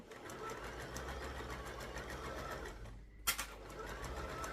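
A home sewing machine runs continuously at a steady pace, stitching fabric close by with a fast, even mechanical whir, pausing briefly before a short burst of clicks and resuming.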